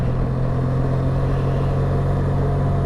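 Benelli 502TRK motorcycle engine cruising steadily in fourth gear around 26 mph, a smooth low constant drone with no change in revs.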